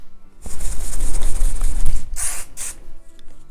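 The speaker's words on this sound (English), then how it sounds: "lightly spray and tease" Bursts of hairspray from an aerosol can hiss loudly and close up while hair is styled into a 1950s Marilyn Monroe look: one long spray, then two short puffs and a faint trailing hiss, with no talking.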